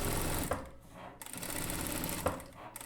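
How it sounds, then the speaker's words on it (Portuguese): Domestic sewing machine topstitching close to the lining seam of a Chanel-style jacket, a steady continuous whirring hum broken by two brief pauses, close and alone with no talk. "eu vou pespontar bem rente à borda de montagem do forro, porque aí eu vou reforçar essa costura"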